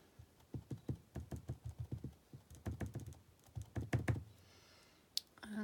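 A rubber stamp tapped repeatedly on an ink pad while inking up post-it-taped letters for mini boxes, a quick run of close, even soft thuds, pausing briefly before a few more taps.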